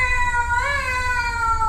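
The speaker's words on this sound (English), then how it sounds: "the cat stretched his neck and gave them a few sample scales" A cat caterwauls through a few trial scales in a Brothers Grimm stage tale of the Bremen town musicians: sustained, wavering high tones that bend upward midway, steady and close over a low rumble.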